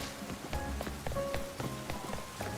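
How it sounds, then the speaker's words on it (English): Rain falls steadily in the video game Pokemon Legends: Z-A, a soft continuous patter of drops on surfaces, faint and even, with light game tones underneath. "Oh, listen, it's rainy,"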